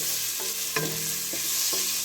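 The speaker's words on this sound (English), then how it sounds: "I love that sizzling sound." Onions sizzle loudly in hot bacon grease, a continuous crackling hiss, with a few short scraping stirs breaking through at intervals.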